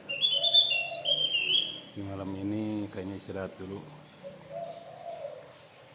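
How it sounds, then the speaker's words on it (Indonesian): A spotted dove (tekukur) gives repeated soft cooing calls at mid distance, set among other chirping birds, while someone talks briefly in the middle. "Itu si tekukur manggil-manggil tuh"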